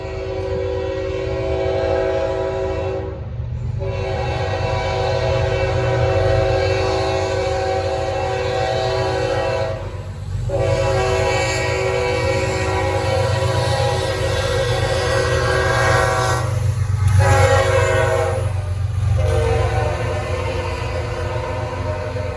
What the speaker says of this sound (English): Just running one locomotive.